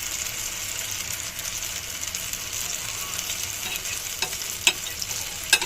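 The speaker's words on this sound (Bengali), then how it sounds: "এখন এগুলোকে একটু ভেজে নেব।" Food frying in a pan while cauliflower chops and spicy pancake-like roti are prepared for iftar: a steady, even sizzle holds throughout, with a few sharp clicks and taps of a utensil near the end, and no one speaks.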